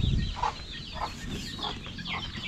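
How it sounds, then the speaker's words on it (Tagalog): Hungry farm chickens cluck in repeated short bursts at close range, with a steady rustling background and no talk. "Walang kabusugan talaga itong mga manok."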